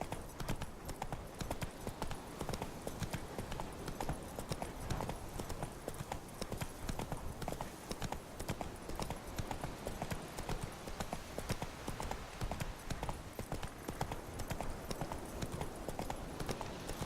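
A horse's hooves clip-clop in a steady trot in The Witcher 3 video game, a continuous rhythmic pattern that stays quiet and even throughout.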